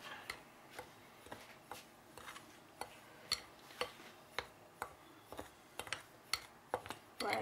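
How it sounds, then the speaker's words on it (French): Flour and salt being stirred in a bowl for pizza dough, heard as faint, fairly regular light taps and scrapes of a utensil against the bowl in a quiet room. "Puis, je vais verser le sel. Mais avant, je vais bien mélanger."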